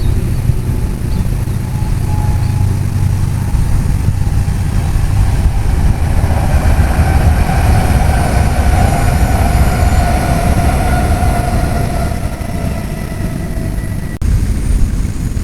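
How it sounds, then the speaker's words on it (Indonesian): Train pulling into a station, a steady loud rumble of wheels and engine with a rising tonal whine building over about fifteen seconds, no talking. "Oke, keretanya sudah datang."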